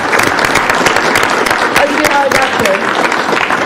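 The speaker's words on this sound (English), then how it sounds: "How about a big round of applause for Carly?" A county commissioners' business meeting audience applauds Carly, a steady wash of clapping that carries through the whole stretch, with a few voices murmuring underneath.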